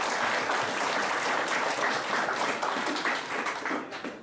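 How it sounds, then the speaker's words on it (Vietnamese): Sustained audience applause fills a year-end ceremony at a Buddhist meditation temple, a dense steady patter of many hands that holds strong for about four seconds before easing slightly at the end. "Xin quý vị một tràng pháo tay cho Ni Sư."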